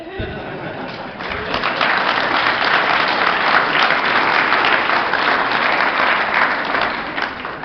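Sustained audience applause fills a large hall at an Alcoholics Anonymous roundup meeting, starting quieter and swelling to a steady, dense roar of many hands that carries on without pause.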